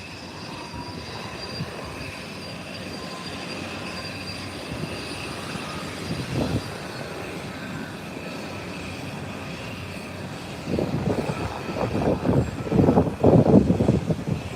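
An airplane taxiing out along an airport runway before a short takeoff, a steady low rumble of engine and rolling noise that swells louder and rougher toward the end.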